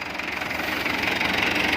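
A 1990 Fiat 640 tractor engine running, a steady close rumble with a faint rhythmic knock, slightly louder toward the end, and no talking over it.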